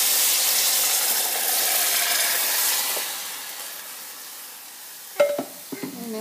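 Rice with black mushroom (djon djon) sizzles steadily in a pot as it cooks, a broad hiss that fades slightly, followed near the end by a few sharp clinks of a utensil against the pot.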